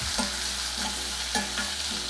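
Onions fry and are stirred in a pan for jeera rice and dal, with a steady loud sizzle and a few scraping stir strokes spaced through it.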